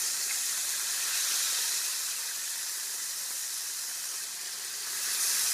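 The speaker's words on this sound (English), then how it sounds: "it's frying just like you'd like" Steady, dense sizzling of chicken frying in hot oil, a constant bright crackle and hiss with no voices.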